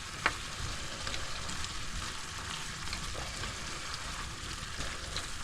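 Whole tomatoes stirred into a hot pan of chilli con carne, crackling and sizzling steadily throughout, with a brief sharp scrape of the spoon near the start.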